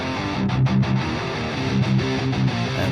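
Electric guitar through an amp simulator on the crunch channel, playing a short rhythmic riff of choppy, mildly overdriven chords with brief palm-muted gaps, loud and close in stereo.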